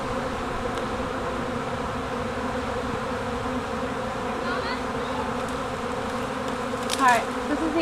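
A honeybee swarm fills the air with a dense, continuous buzzing, close and steady, with a faint brief rustle near the end and no speech.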